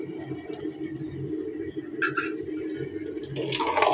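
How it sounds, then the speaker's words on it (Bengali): Water splashes and pours close by into a pot of beef being hand-mixed with mustard oil and spices, a soft continuous trickle broken by a few brief louder splashes near the end. "হাত ধুয়ে পানিগুলো দিছি"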